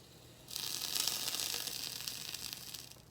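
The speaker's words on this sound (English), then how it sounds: "you gotta listen, because you're gonna hear all the sizzle." A steady, bright sizzle starts abruptly and keeps hissing close up as a sandwich cooks in a Hamilton Beach sandwich toaster, fading slightly toward the end.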